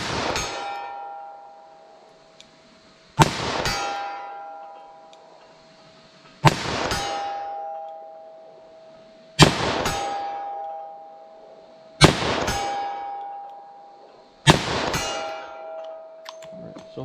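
Six slow-fire .38 Special +P revolver shots strike a steel target at 75 yards. Each lands as a sharp, separate clang, spaced a few seconds apart, and each rings on with a metallic tone that fades before the next hit.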